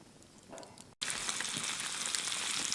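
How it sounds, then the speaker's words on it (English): Fish frying in a pan over a campfire on a fall canoe trip in Algonquin Park, a brief quiet stretch then a sudden loud burst of steady crackling sizzle, close and continuous. "Let the fish fry begin."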